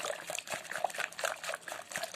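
Milk and water poured into pancake batter make a continuous, close splashing trickle that wavers in strength, with no voices over it.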